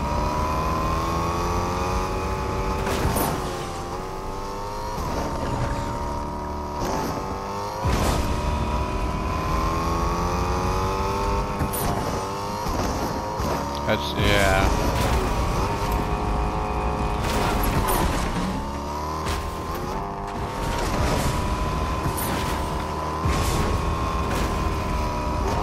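A car in the video game Fortnite drives steadily, its engine droning loud and close with rising and falling revs and brief clunks, with no talk over it.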